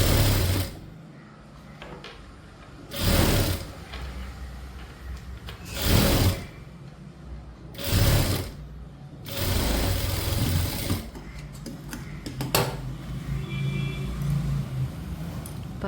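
A sewing machine running a double stitch on a garment armhole, in several short bursts of rapid stitching with pauses between, fairly close and steady.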